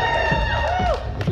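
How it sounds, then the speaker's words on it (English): A crowd at a steampunk convention fashion show cheers in a short burst, with high whoops and shouting voices rising and falling over a loud, busy din. "let me hear you cheer"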